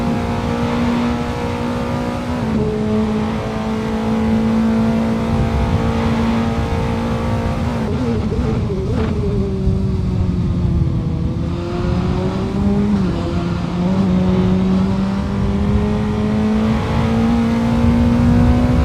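A Formula 4 race car engine screams at high revs on a lap of Thruxton Circuit, loud and close, its pitch dropping and climbing again through gear changes and corners.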